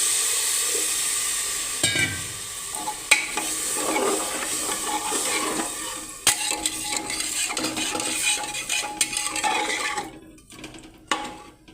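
Water poured into masala rice frying in a pressure cooker, a loud sizzle and hiss with utensil clatter and stirring, easing toward the end.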